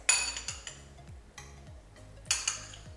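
A spoon stirring date paste and peanut butter in a bowl, a series of soft scraping strokes with light clinks of cutlery against the dish, close and uneven in rhythm.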